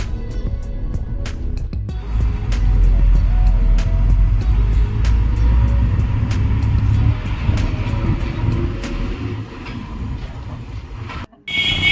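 Rumbling engine drone and road noise inside a moving Sheetal Travels bus with open windows in foggy weather, a loud steady low roar with repeated rattling clicks, close and continuous with no talk.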